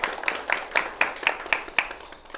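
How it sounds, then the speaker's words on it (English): Clapping at a live interview event: evenly spaced, crisp hand claps repeat several times a second, fairly close and moderately loud, with no talking. "I'd like to introduce to you with a warm round of applause, Mr. Jason Gaston."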